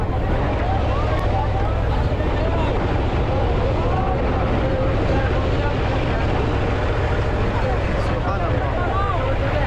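A speedboat passing on Kaptai Lake in Rangamati, its motor a continuous rumbling drone blended with wind buffeting the microphone, steady and fairly loud from start to finish.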